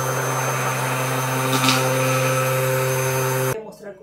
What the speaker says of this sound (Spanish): Saqué la batidora de mano y voy a usar la de inmersión